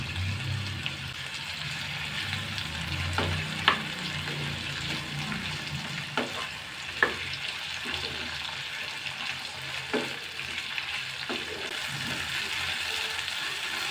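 Tomatoes, curry leaves and tamarind fry gently over a low flame for peanut chutney, making a steady soft sizzle. A few sharp clicks and scrapes from stirring sound at irregular intervals.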